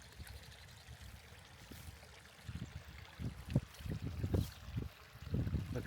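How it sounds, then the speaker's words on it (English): Stream water trickling and splashing under a bridge on a countryside meadow walk, a steady close burble with livelier gurgles toward the end. "Here's the water coming under the bridge."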